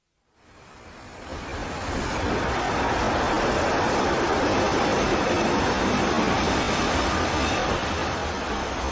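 Train arriving at a village station, a rushing rumble that swells in from silence within the first seconds and holds loud and steady to the end.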